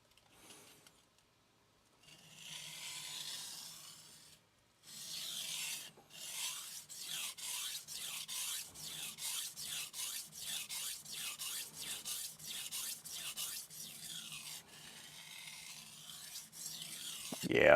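A Yoshimitsu Hamono Aogami Super 180mm gyuto is sharpened on a Shapton Kuromaku 1k whetstone. After a few hesitant strokes, steady rhythmic scraping builds into repeated back-and-forth rasping strokes, close and fairly quiet.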